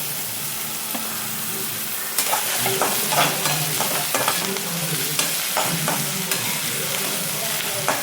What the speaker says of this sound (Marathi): टमाटा चांगला हलवून घेते